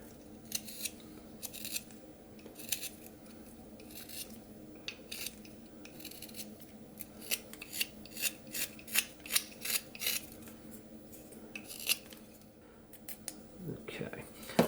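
Knife whittling a wood mountain lion figure, rounding over the top, making a series of short dry scraping cuts in irregular rhythm, close and fairly quiet, with soft breathy sounds in between.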